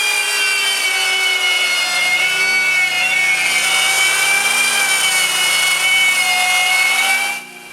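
Router bit cutting circles in a plywood sheet in several lowered passes, a loud steady high whine with harmonic tones and a continuous rasping cut, running nonstop close by and stopping abruptly just before the end.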